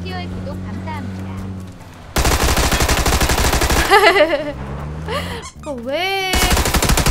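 A Tommy gun in a video game fires in sustained, loud automatic bursts while the shooter rides along, with vehicle engine noise underneath and a voice talking over it.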